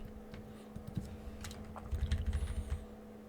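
A computer keyboard is typed on in a quick run of soft, close keystrokes, set against a steady electronic hum while a number is entered in Scratch.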